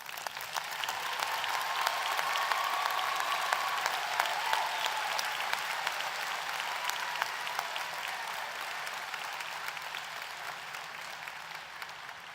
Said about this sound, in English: Let us applaud the recipients of the baccalaureate degrees.